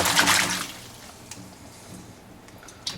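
Water running off rinsed frozen figs in a colander: a brief close gush of draining water that quickly thins to soft trickles and drips.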